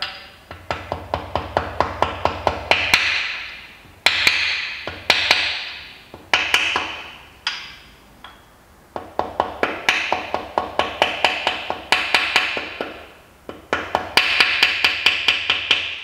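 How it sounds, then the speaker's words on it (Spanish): Repeated hammer blows on a chisel held against a metal engine part while assembling a Citroën/Peugeot 1.4 KFV petrol engine, bright metallic taps in quick bursts of several strikes with short pauses, close and loud. "Podemos coger un cincel y la parte plana trasera del cincel la ponemos aquí hasta que suene metal."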